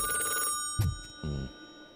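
A telephone in the RoboCop Rogue City video game gives two short rings separated by a brief pause, clear and close over a faint steady electronic hum.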